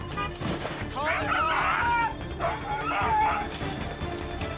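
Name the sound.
dog barking while running loose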